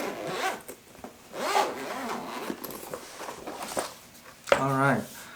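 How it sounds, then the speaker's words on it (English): Zipper on a nylon gimbal case being pulled open, a few rasping strokes of the zip with handling rustles, ending in one sharp, louder zip run, while a person talks throughout. "let's see what's in this nice handy dandy zipper nylon pocket"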